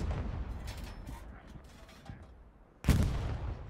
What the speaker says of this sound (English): Artillery coming in on that last ping.